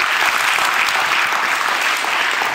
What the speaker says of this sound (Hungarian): Tapsoljon, aki szerint ez igaz